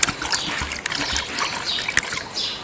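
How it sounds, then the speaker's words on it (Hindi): Water is poured onto a cocopeat block, a light irregular trickle and splatter running close by with small sharp taps through it. "ये इसमें हमने 3 लीटर पानी डाल दिए।"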